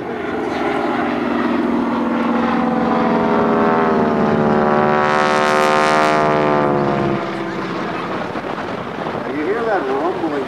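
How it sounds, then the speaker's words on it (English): Loud droning radial engine of a T-6 Texan passes close by at an airshow, its throaty pitch sweeping as the plane flies past, then easing into a lower rumble. "The engines you were hearing, round engines, radial engines."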